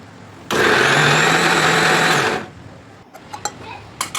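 A mixer grinder blending tomato, onion and garlic roars loudly for about two seconds, then stops, followed by a few light knocks and rattles.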